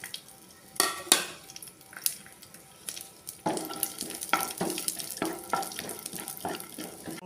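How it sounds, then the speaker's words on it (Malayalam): Chopped cashews frying in a spoonful of ghee while making a jackfruit seed snack, with steady sizzling, scattered clinks of a spoon against the pan and a livelier crackle in the latter half. "കട്ട് ചെയ്ത് വെച്ചേക്കണ അണ്ടിപ്പരിപ്പ് ഒന്ന് അതിലോട്ട് ഇട്ട് ഫ്രൈ ചെയ്തെടുക്കാം."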